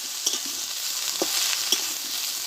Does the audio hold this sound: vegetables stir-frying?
yes